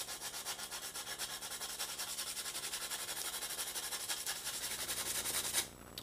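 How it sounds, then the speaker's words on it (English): Hand sanding along the edges of a wooden paddle with 60 grit paper, a close, continuous rhythmic scratching rasp in steady back-and-forth strokes that stops abruptly near the end. "you get even sanding around the edges, and just kind of watch as it gets nice and smooth"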